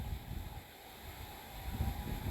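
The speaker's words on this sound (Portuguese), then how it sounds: "Tá muito forte o vento." Strong midday wind buffets the microphone outdoors where a mini drone is about to fly, producing uneven low rumbling gusts that swell and fade without a break.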